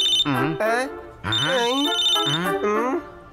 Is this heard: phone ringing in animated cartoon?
yes